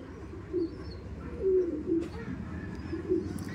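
Madras breed pigeons coo in a few low, soft, throaty calls spread across a few seconds, close by over a steady murmur of background noise.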